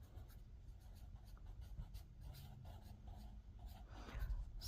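Someone writes Latin by hand in cursive, a very faint, close scratching of pen on paper with short strokes and pauses, in a quiet room with no talking.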